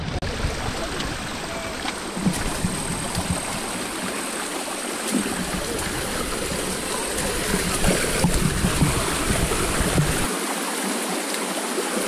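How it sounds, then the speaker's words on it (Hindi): Several waterfalls along a trekking trail from Panhala to Pawankhind, in rain-fed hill country, send out a steady, dense rush of flowing water that carries on without a break. "एक के बाद एक बहते हुए झरने नजर ही आते हैं।"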